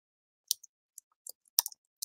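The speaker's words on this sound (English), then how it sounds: "Here I am typing away" Someone types on a keyboard at home, sparse crisp key clicks arriving in small irregular clusters, close and quiet against near silence.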